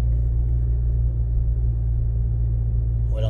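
Car engine with a faulty automatic transmission held in first gear, running at steady revs near 2000 RPM; a loud, continuous low rumble and drone throughout with no gear change.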